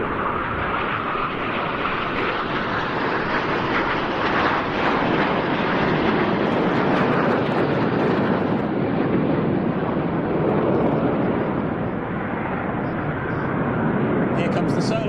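Frecce Tricolori aerobatic jets trailing coloured smoke cross at an air show, a loud, steady broadband jet roar filling the whole stretch with wind buffeting, no voices heard.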